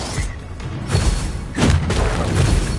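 A Bombarda spell detonates in Hogwarts Legacy, a loud, close, booming blast with heavy low rumble and a second thudding impact, set in a game battle without talk.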